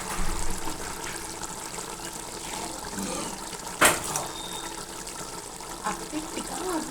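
Soaked rice poured into boiling water in a pot for mutton biryani, a watery trickle and splash with one brief sharper splash midway, faint and close.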